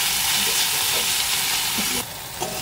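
Chopped onions fry lightly in hot oil with a steady, close sizzle and faint stirring scrapes. The hiss drops a little toward the end.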